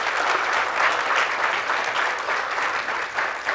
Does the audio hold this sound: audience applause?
yes